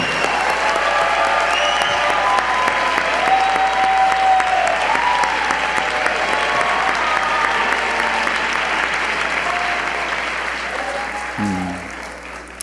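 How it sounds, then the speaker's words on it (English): Large audience at a Sunday church service applauding a president and a continental leader, dense sustained clapping and cheering that holds steady for about eleven seconds, then tapers off near the end. "Let's give another big round of applause to President Now Kimi"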